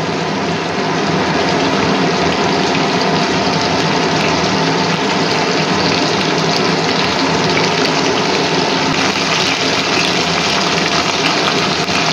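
Water poured into a pan of garlic and spice paste being fried in oil for a Bengali boal fish curry, a steady loud rushing gush that holds without pause the whole time, no voices over it.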